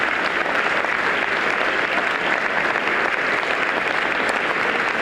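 Audience applause fills the hall at a governor's State of the State address, a dense, steady roar of clapping, loud and unbroken for the whole stretch.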